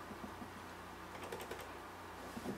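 Saxophone keys snapping back as their needle springs are rehooked during a pad replacement, a scatter of faint light clicks and taps in a quiet room, spread irregularly across a couple of seconds.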